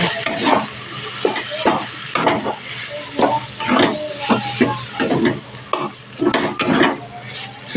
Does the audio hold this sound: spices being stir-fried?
yes